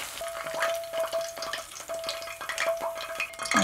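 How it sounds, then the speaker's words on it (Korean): Garlic frying in oil over low heat, a soft crackling sizzle with small irregular pops and a few stirring clicks, close by, with a faint steady tone running underneath. "마늘이 약간 노릇노릇해질 정도까지만 튀겨주시면 됩니다"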